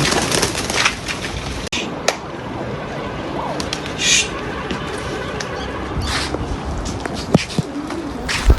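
Several pigeons coo softly in a low, throaty murmur in a loft, with occasional wing flutters and scuffling clicks close by.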